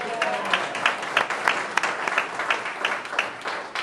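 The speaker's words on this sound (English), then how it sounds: "Let the record know about every hand went up and you heard the applause" A Tea Party rally audience in Flagstaff applauds, a dense run of hand claps with uneven surges and a few sharper peaks, close and continuous for a few seconds.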